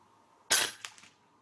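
A single sharp shot from an FX Boss .30 caliber (7.62) PCP air rifle, a short bright crack followed by a brief fading clatter, fairly close and alone.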